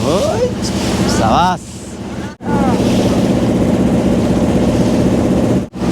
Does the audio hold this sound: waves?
yes